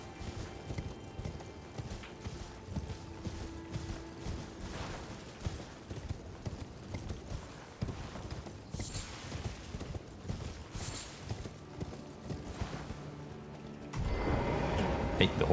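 Horse hooves clip-clop steadily in Elden Ring, a continuous rhythmic trot at moderate distance with occasional whinnies, a louder rumble of movement entering near the end.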